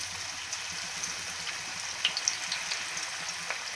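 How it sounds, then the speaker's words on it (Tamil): Cauliflower pakoda frying in hot oil, a steady bright sizzle throughout with occasional small pops and crackles, close and continuous with no voices. "எண்ணெய் காஞ்சிச்சு. காலிஃப்ளவர் பக்கோடா போட போகிறோம்."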